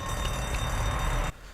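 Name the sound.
alarm ringing in storage room, The Walking Dead video game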